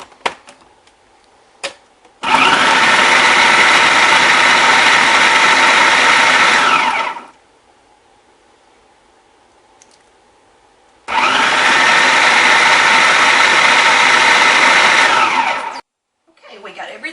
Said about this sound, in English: And then we'll get it all blended together.